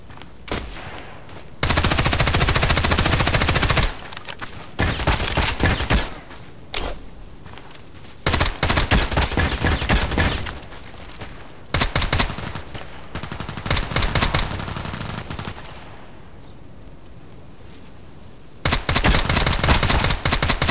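Sig Sauer MPX firing in the Contract Wars shooter, in repeated loud automatic bursts of varying length separated by brief pauses and quieter stretches, with some distant shots between them.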